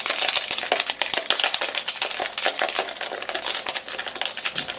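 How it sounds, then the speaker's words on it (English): Metal keys scraping and rattling against the glossy jet black back of an iPhone 7, a dense, continuous run of close, harsh scratching and clicking with no talking. "just shake things up with these keys on this phone"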